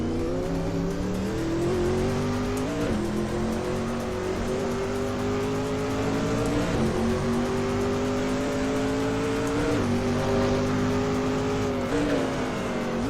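A race car engine in the Assetto Corsa racing game drones loud and steady throughout, rising in pitch through each gear before briefly dropping at every shift, with no talk over it.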